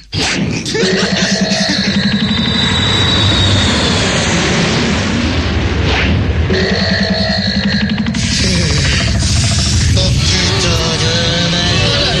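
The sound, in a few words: airplane engine warming up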